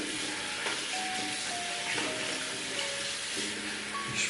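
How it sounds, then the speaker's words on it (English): A shaving brush is rinsed under a running tap, a steady close hiss of flowing water with faint splashing as the bristles are worked through the stream. "I'll just rinse off the brush"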